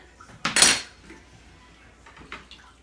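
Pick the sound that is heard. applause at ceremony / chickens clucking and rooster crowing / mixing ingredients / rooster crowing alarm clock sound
mixing ingredients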